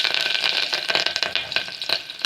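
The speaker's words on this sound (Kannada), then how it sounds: "ನೋಡಿ, ಒಗ್ಗರಣೆಗೆ ಹಾಕ್ತೀನಿ." Hot oil sizzles and crackles loudly and steadily as tempering spices, onion and curry leaves hit the pan for sambar, a busy spitting hiss close up.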